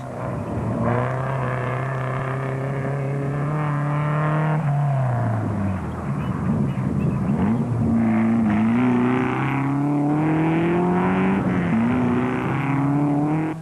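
A Castrol Toyota Hilux 2.7 rally truck races with its engine roaring close by, revving high, dropping through a gear change and climbing again in a sustained loud drone.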